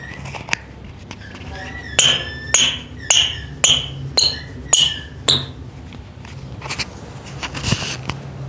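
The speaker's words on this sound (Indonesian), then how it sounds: "oke, sepatu ini bunyi ya, King." A Specs Lightspeed Reborn futsal shoe is tapped or knocked, giving about eight sharp, ringing clicks in a steady run at close range, with faint background noise afterward.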